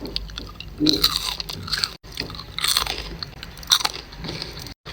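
Hot, crispy french fries are bitten and chewed up close, with several sharp crunches spaced over a few seconds and quiet chewing in between.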